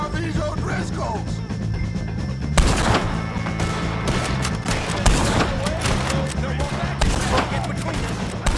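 A Red Dead Redemption 2 shootout with O'Driscolls crackles with repeated sharp gunshots and rapid bursts, loud and close, mixed with shouting voices and game sounds.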